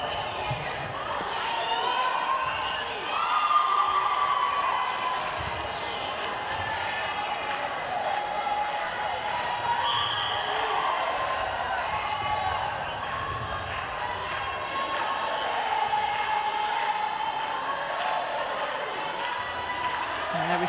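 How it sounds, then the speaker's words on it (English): A crowd backing Zimbabwe at a netball match against Australia fills the arena with a continuous roar and shouts, while the thud of a bouncing ball and a commentator's voice come through. "there we see the delightful crowd that are in to support Zimbabwe"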